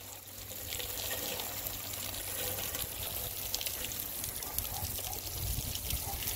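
Water spraying from a garden hose after a wildfire: a steady, close hiss and splash that runs without a break.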